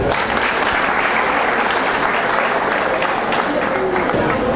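A university audience gives a round of applause for ministers, a loud, continuous wash of clapping that holds evenly throughout.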